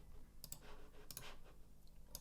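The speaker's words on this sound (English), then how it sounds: "I'm right-clicking them." A computer mouse gives a few faint, sharp clicks in small pairs, spread out against a steady low hum of room noise.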